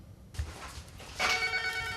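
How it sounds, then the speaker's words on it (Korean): A landline telephone rings in a snowbound, cut-off mountain village in Gangwon Province, South Korea. It starts after a moment of quiet as a bright, sustained electronic bell tone, loud and close. "이곳의 유일한 통신 수단은 유선 전화."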